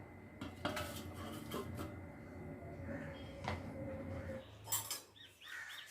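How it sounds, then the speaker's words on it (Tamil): Metal lid set onto a pot of mutton kuzhambu in a home kitchen, a clattering clink of metal on metal with a brief scrape, close and fairly quiet, with faint bird calls at the end. "நான் மூடி வச்சிடுறேன்."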